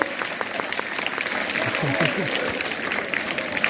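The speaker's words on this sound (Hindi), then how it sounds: "जोरदार तालियां यदि आपको आनंद आ रहा हो तो।" An audience at a government high school Independence Day event in Balwanti claps in a continuous, moderately loud round of applause, with voices mixed in underneath.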